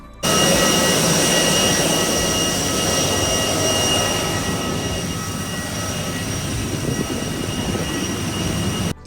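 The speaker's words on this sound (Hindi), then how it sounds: "इतना ज़्यादा यहाँ पे नॉइज़ होता है इंजन का" Jet engines roar outside an IndiGo aircraft on a domestic flight. The broad, loud, continuous rumble and whine holds steady with no voices, then cuts off abruptly at the end.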